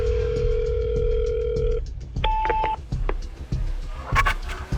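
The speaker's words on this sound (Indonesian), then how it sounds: "Aku telepon dia dulu." A telephone handset plays a steady dial tone, then a short series of dialing beeps and tones follow, ending in a burst of bright electronic bleeps.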